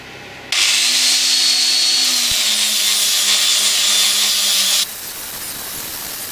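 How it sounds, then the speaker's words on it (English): An angle grinder fitted with an abrasive bristle brush scours the rim of a carved beech bowl. A loud, steady whirring rasp starts abruptly, holds for about four seconds, then cuts off, leaving a softer background hum. "abrasive bristle brush to the angle grinder again"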